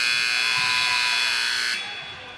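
Basketball game buzzer at the end of the half, a loud sustained electronic drone held for almost two seconds before cutting off, with gym crowd noise faintly underneath.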